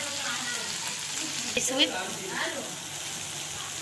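Lentils sauté in a pan with garlic, cumin, coriander and black pepper for Egyptian koshari, giving a steady close sizzle with a few light stirring clinks, while a voice briefly speaks over it.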